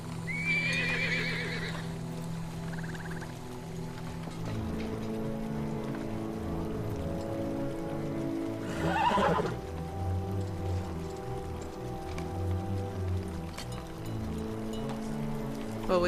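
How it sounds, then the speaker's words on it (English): Shadowfax, a horse in the Lord of the Rings Online video game, gives a loud whinny, then clip-clops amid ambient game music and low rumbling, with a second whinny burst partway through. "Unless I am very much mistaken, that horse is Shadowfax"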